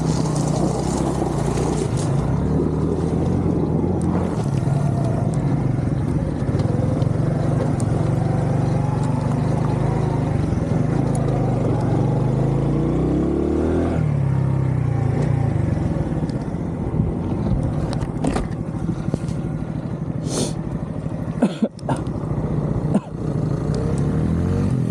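A Honda CD70 motorcycle engine runs loud and steady while climbing Gorakh Hill, its drone continuous throughout with shifts in pitch as it revs and labours, briefly dipping near the end.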